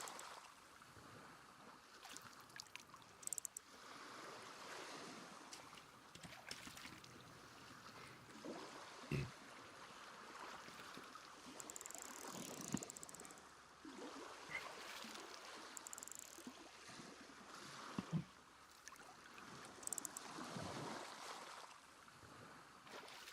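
Water splashing against a pier in the survival video game DayZ, a steady broadband wash with soft irregular surges and occasional louder slaps, moderately distant and heard alone.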